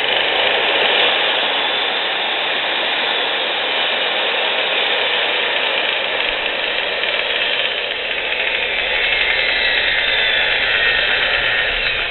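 A Milwaukee 4262-1 magnetic base drill press runs at variable speed, giving a loud, continuous motor whine with a mechanical rattle. The pitch stays steady throughout, with a slight rise toward the end, and no one speaks.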